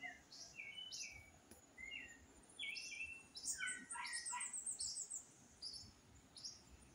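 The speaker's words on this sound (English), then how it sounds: "That is nightingale bird." A nightingale sings on a pepper farm, giving faint, high chirps and trills in quick varied phrases over soft outdoor background noise, with no talking.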